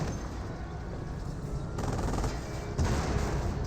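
Sustained battlefield gunfire from the Company of Heroes strategy game, with a German Hetzer tank destroyer under fire: a dense, continuous crackle of small-arms and machine-gun shots that thickens partway through, with no voices over it.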